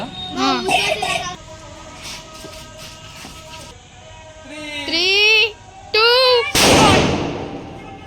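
Children shout and talk excitedly during Diwali, then a single loud firecracker blast bursts close by near the end, its crackling roar trailing off.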